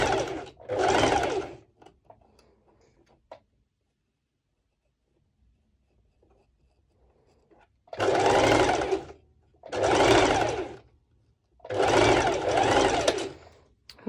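A sewing machine sews a straight stitch through layered lycra swimsuit fabric in four loud, steady bursts of about a second each, with a long quiet pause after the first burst.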